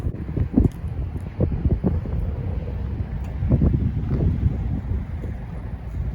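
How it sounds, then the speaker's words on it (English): Gusty wind buffets the microphone in low, uneven rumbles outdoors in light snow, close and fairly loud, with occasional thumps and a faint steady hiss behind. "It's a little windy, guys."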